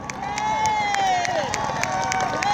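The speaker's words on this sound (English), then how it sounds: "the crowd, we need to cheer home Leanne Pompiani" Spectators cheer and clap at the finish of the Strait Link Burnie 10 road race as the women's winner comes home, a lively crowd roar with rhythmic clapping and talk over the top.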